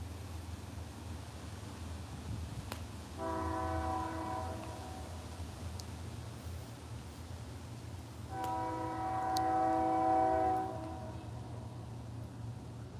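A train in the desert sounds two long, steady horn blasts a few seconds apart over a constant low rumble of rolling cars, moderately distant, with no talking.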